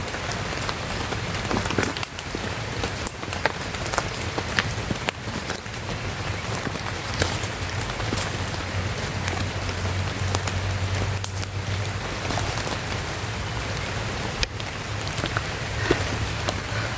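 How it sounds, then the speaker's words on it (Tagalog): Heavy rain pours steadily, a dense continuous patter of drops striking surfaces all around, with no voices. "Sigurado ako biglang bubuhos tong ulan na to."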